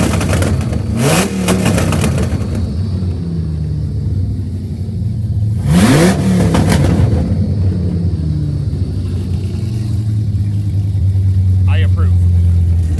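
Dodge Viper truck engine, warmed up to 200 degrees, rumbles close by at a steady idle and is revved hard twice in sharp bursts, with the idle settling back between them.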